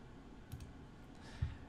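A computer mouse clicked during PC settings work, two faint, close, separate clicks about a second apart in a quiet room.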